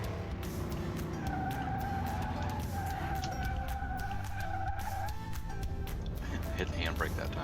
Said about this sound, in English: Hit the handbrake that time.